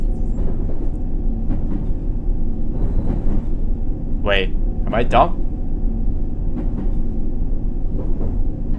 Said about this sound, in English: Okay, the district line is departing now.